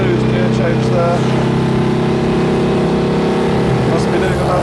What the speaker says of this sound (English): Third into fourth, very nice smooth gear change there.